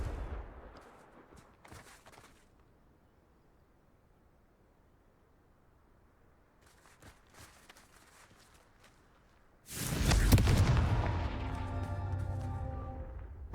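Confringo blasting spell in Hogwarts Legacy: faint scattered thuds and crackles give way to a sudden loud burst near the end, followed by a long roaring, ringing decay.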